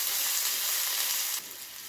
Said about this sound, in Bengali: দেখুন পেঁয়াজটা আমার খুব সুন্দর ভাজা ভাজা হয়ে গেছে।